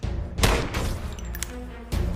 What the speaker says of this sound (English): That was definitely gunfire.